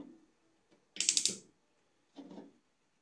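A kitchen gas stove burner is switched on while making chocolate porridge, with two close, brief bursts of rapid mechanical clicking from the knob and igniter and quiet in between.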